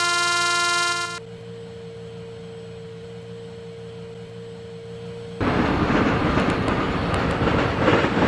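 In the Indian Train Simulator game, the Garib Rath Superfast Express with a WAP-7 electric locomotive pulls into a station: a tonal chime fades into a low hum, then a loud rush of rolling wheels takes over.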